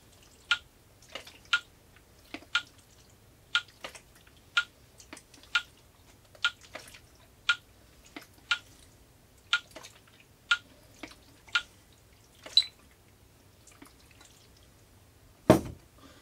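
Liquid leaks from a film developing tank, falling in sharp, regular drops roughly every half second to second against near silence, with a louder knock near the end.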